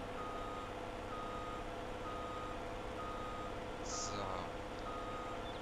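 A truck's reversing beeper sounds in Farming Simulator 22 while it is parked: a steady, evenly spaced series of beeps over continuous engine rumble, with a brief spoken word near the start.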